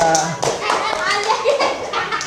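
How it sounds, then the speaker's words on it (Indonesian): Children in a classroom clapping and applauding, a brief burst of many hands mixed with their chatter and raised voices, close and fairly loud. "Tepuk tangan untuk Gesha."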